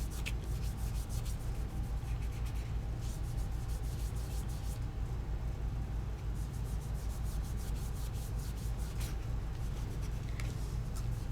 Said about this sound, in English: It's a wax-based product that you literally just rub on top.